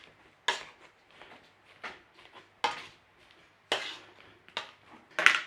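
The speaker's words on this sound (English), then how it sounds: "I'm just going to mash them with a masher" Potatoes mashed by hand with a masher for colcannon, a traditional Irish dish: six or so dull, soft thumps spaced irregularly, close and fairly quiet, with faint scraping between them.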